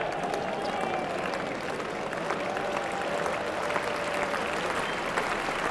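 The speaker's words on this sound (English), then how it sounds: "that's a half century for Alan Border, and very warm applause from the crowd" Warm, steady applause from a cricket crowd greeting Allan Border's half century, a dense wash of clapping that holds evenly throughout, with faint crowd murmur and some voices underneath.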